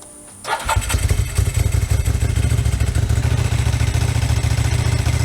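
A motorcycle with Stain tune high-mount pipes fires up after a brief quiet start, then settles into a loud, close, steady idle whose lumpy throb carries a dry clutch rattle.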